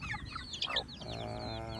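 Rhode Island Red, Shamo and native chickens cluck and chatter close by, several birds overlapping in a busy, continuous farmyard murmur.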